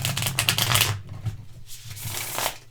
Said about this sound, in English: But yes, we can riffle shuffle them.